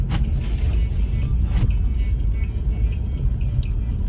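A car drives along a snowy road during a snowstorm on all-season tires that are not snow tires. The steady engine and road rumble is loud and continuous, with faint hiss and rattle over it.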